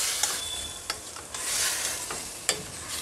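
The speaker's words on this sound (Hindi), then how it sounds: "इन सबको हमें 5 मिनट तक अच्छे से भून लेना है।" Chaap and keema with spices and a little water fry on a tawa, giving a continuous loud sizzle with scattered sharp scraping and clinking strokes of a spatula, close up and with no talk.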